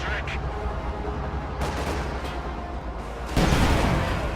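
Tank cannon fire from a KV-1 in a World War II strategy video game, sharp booms amid continuous battle noise with a louder blast near the end, loud and close.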